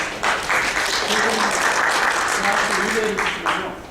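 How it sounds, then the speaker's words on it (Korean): Audience applause in a university classroom workshop as professors receive gifts, a dense steady wash of clapping lasting the whole stretch, with a voice talking faintly over it. "일단 박수 한번 드리시죠"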